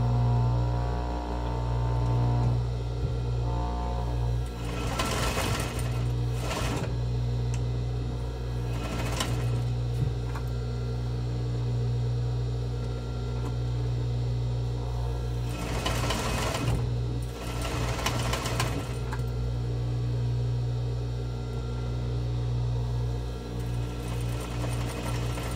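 A sewing machine stitches and backstitches along the corners of a box-style fabric face mask. It runs in steady bursts with short pauses, over a constant low mains hum, with no talking.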